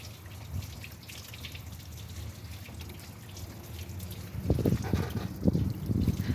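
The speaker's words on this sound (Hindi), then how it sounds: "ये हमने लगा दिया एक तरफ से और दूसरी तरफ से पानी आ रहा है अभी।" Water trickles and splashes from a car heater pipe during a repair on a car whose heater is not working, a soft steady flow that turns into louder gurgling spurts toward the end.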